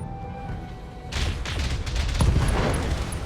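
Sniper turrets fire double PPCs and double AC-2 autocannons in the BattleTech video game, a burst of booming shots and crackling impacts that swells over a rumbling battle background.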